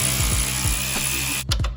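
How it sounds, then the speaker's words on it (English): A hand ratchet backs out a coilover bolt on a Dodge Neon SRT-4, giving rapid, close, even clicks that stop abruptly near the end, with no talking. "take this bolt out"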